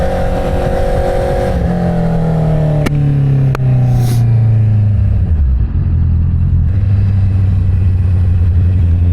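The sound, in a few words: inline-four engine car driving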